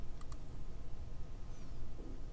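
Soft computer mouse clicks sound close and faint over a steady background hiss, two quick clicks near the start and another at the very end.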